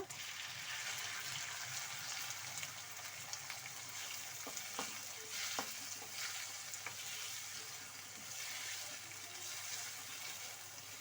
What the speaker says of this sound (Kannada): ಟೊಮೆಟೊ ಎಣ್ಣೆಯಲ್ಲೇ ಫ್ರೈ ಆಗಬೇಕು